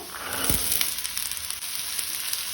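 Fresh green peas tipped into a pan of finely chopped onions frying in oil, a close steady sizzle with a brief thump as they land.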